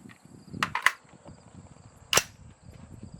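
Suppressed shots from a Daniel Defense rifle with a 14.5-inch barrel at an outdoor range, two quick sharp cracks followed by a third crisp report a moment later, over faint background noise.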